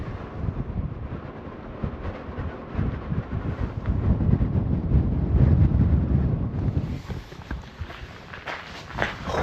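Cold, gusty wind blowing through a bridge over the flooded River Trent, a continuous rushing roar with rumbling microphone buffeting and a faint high whistle toward the end.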